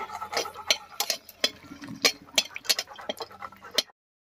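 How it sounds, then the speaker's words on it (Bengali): Two dried red chillies frying in hot mustard oil in a wok, giving a steady close sizzle with scattered sharp crackles and spatula scrapes throughout, then stopping abruptly. "তেল গরম হয়ে গেছে, তেলের মধ্যে দেব দুটো শুকনো লঙ্কা"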